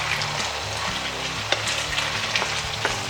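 Potatoes, zucchini and onion fry in a pan for a vegan potato tortilla, with a continuous sizzle broken by occasional soft scrapes and knocks as the mixture is stirred; nobody talks.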